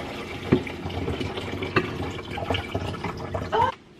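Water running from a kitchen tap into a coffee machine reservoir, a steady trickling stream with small splashes and clinks, close, ending abruptly when the flow stops.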